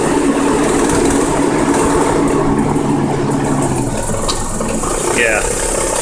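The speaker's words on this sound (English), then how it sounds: "the engine is going to struggle really bad" A Toyota RAV4 engine runs rough and loud with an induced vacuum leak, its rumble sagging and laboring as if close to stalling, with steady mechanical noise throughout.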